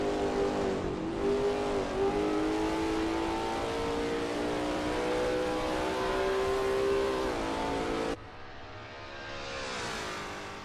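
A racing-game Lola T70 MkII Spyder takes a corner at Riverside Short, its engine holding a loud, steady droning note that bends in pitch before easing off near the end.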